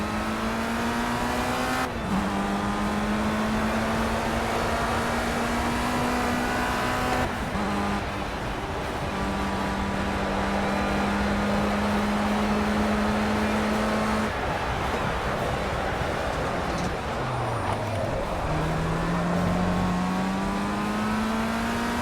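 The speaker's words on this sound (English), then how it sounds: "Hard right turn and are accelerating away." Race car engine in the Project CARS racing game at Snetterton, a steady loud rev climbing through gears with sharp shift drops at regular intervals, accelerating hard out of a right turn, no voices.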